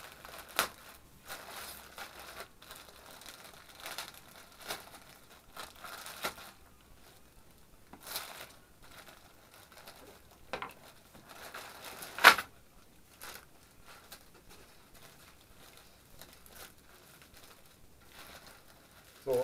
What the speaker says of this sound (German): eine große Tüte mit einem Haufen Ausgaben.